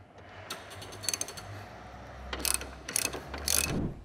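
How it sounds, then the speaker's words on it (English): A wrench tightens suspension parts on an S550 Ford Mustang GT350, giving faint, close bursts of ratcheting clicks in short irregular runs over a quiet background. "And at that point, you can get your wrench"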